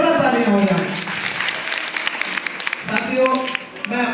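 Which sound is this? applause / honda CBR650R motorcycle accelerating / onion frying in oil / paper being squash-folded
applause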